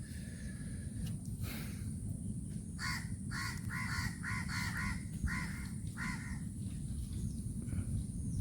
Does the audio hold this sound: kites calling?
yes